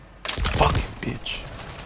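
Gunfire in the shooter game Warzone, a short burst of several rapid shots close and sharp, quickly fading, with a voice speaking over the end.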